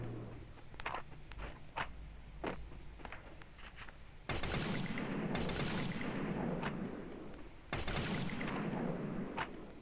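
Bursts of automatic gunfire in a shooting video game against bots, scattered single shots early on, then two long loud fusillades of rapid fire with rattling echoes.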